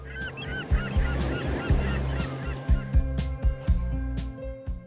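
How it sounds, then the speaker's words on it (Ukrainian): A recorded goose-like bird call from a museum exhibit button honks repeatedly in a rhythmic series, fairly loud and close, with a low electronic hum underneath. "якщо на неї натиснути, то можна почути, як звучить ця пташка"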